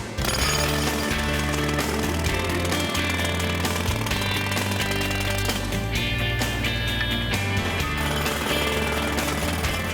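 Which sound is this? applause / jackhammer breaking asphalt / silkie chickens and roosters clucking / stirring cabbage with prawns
jackhammer breaking asphalt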